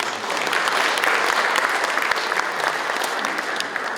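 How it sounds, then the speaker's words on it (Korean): Large audience applauding at a Gyeongsangbuk-do governor's report event celebrating the successful APEC summit, a dense, steady roar of many hands clapping at once, loud and sustained without pause. "에이펙 성공 개최를 축하하는 마음을 담아 모두 함께 큰 박수 부탁드립니다"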